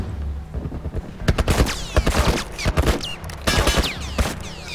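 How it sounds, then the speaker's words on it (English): Gunfire from The Last of Us Remastered, with a character pinned down under fire from both sides. Shots come in loud, rapid bursts and scattered single cracks across the whole stretch, with no talking. "she's being shot at from both sides"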